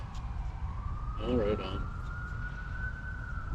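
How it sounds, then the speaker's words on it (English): Emergency vehicle sirens sound in a city street, one long rising tone held at moderate distance over steady traffic noise, while a person briefly speaks partway through. "Lots of sirens here all the time."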